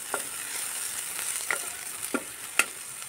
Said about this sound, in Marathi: पुन्हा 1 मिनिटभर परतून घ्यायचा आहे